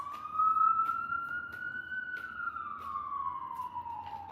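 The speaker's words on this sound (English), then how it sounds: "sorry about the sirens." A siren wails steadily throughout, its pitch rising and then slowly falling, with faint traffic noise beneath.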